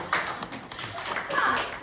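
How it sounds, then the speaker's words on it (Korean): A church youth congregation gives an amen round of applause, a short burst of indoor clapping with voices mixed in underneath. "아멘 박수 한번 하세요."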